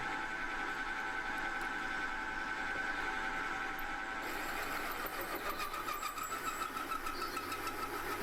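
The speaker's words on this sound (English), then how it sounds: "So I'm going to just drill this hole in the top of this to start with." A steady mechanical whir of a drill running continuously, its pitch shifting partway through as the bit bites into the top of a metal flypress weight.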